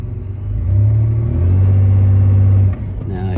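A car engine revs hard in reverse while held against the brakes, fighting fuel delivery issues, giving a loud, sustained low drone that swells and holds steady for a couple of seconds before easing off.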